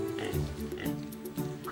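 A hungry spotted pig rooting for food on a farm grunts repeatedly in short, close oinks, with rhythmic snorts layered over a busy background.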